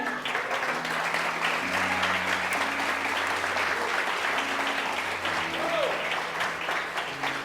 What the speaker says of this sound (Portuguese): Dê um aplauso bem forte aí.